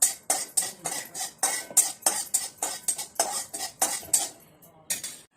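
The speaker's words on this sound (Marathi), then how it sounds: "खसखस अशी थोडीशी लालसर भाजायची" Poppy seeds being dry-roasted in a pan are stirred with a utensil, giving about a dozen quick, rhythmic metallic scrapes and clinks, close and crisp, with no voices.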